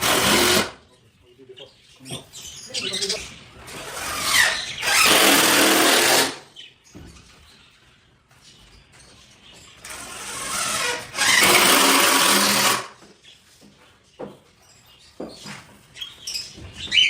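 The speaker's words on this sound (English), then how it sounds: "While Shani is screwing the middle piece in place" A power drill drives screws into a wooden frame piece of an Indian ringneck aviary, in two long, loud whirring bursts with shorter bursts, clicks and handling noise between them.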